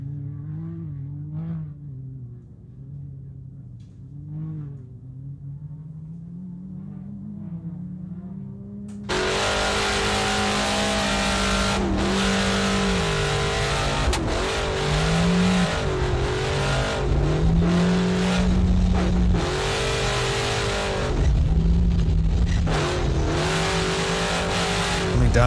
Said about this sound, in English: Here goes Cameron Von Bohm through in the 619, the ex-Christian Reach Can-Am